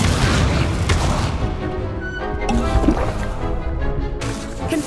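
A fire spell being cast in the Hogwarts Legacy video game, a loud booming whoosh with crackling, roaring flames and layered combat effects following close and full throughout.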